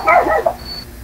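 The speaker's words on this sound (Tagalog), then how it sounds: "Yan ang aso." A single short dog bark, close and fairly loud, from a dog at a house in the mountains, ending in a brief fading tail.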